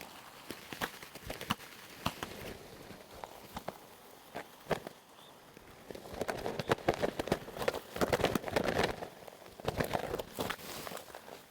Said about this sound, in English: This is the sound of them beating their wings.